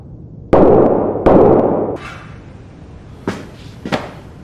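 Two sharp, loud gunshot cracks close together at a shooting range, followed by fainter reports a bit later, with no voices.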